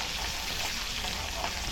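Pasta masala sautéing in a pan over low gas gives off a steady, even sizzle of frying that holds without break from start to finish, with no voices.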